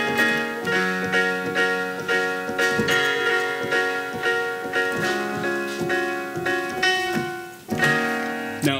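PopuPiano keyboard playing the chord progression of a song, a steady sequence of struck chords in a repeating rhythm, close and moderately loud with no talking.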